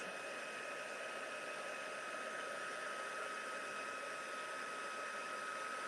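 A heat tool melting embossing powder for a craft project, a steady whirring blower hiss with a constant tonal hum, even and unbroken.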